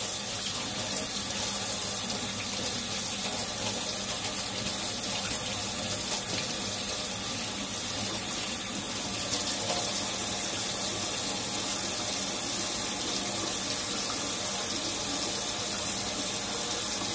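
Tap water runs steadily from a faucet into a sink while a makeup brush is rinsed under it, a constant close splashing rush with no pauses or voices.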